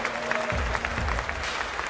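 A crowd sound effect plays behind a live Bitcoin trading chart stream, a steady roar of clapping and cheering at moderate level with a low drum-like thump entering partway, under a faint voice.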